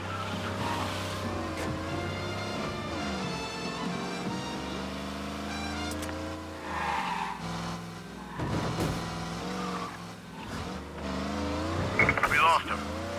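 In the Mafia: Definitive Edition video game, a car drives in a police pursuit, its engine droning steadily throughout with tonal shifts as it accelerates, under voices talking and game music.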